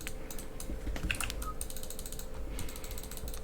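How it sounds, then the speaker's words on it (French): Mechanical keyboard keys hammered hard in a rapid burst of sharp clicky strikes, loud and close, with quieter key rattles continuing after. "Vous avez vu comme j'ai martelé la touche de mon petit clavier mécanique."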